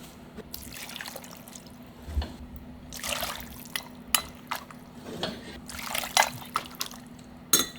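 Water left from blanching ribs is poured into a pot of Korean braised short ribs, with soft intermittent splashes, drips and trickles plus a few light clinks of cookware, faint and close, with no talk.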